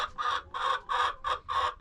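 First-year laying hens cluck in about six loud, evenly spaced bursts close to the microphone, with quiet gaps between calls and no one speaking.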